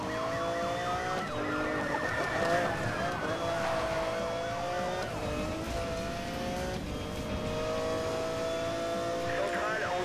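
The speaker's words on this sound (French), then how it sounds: "Accélération de cette voiture." A car accelerating in the racing game Need for Speed Most Wanted, with a sustained engine tone rising and shifting in pitch over layered game sound and music, loud and continuous throughout.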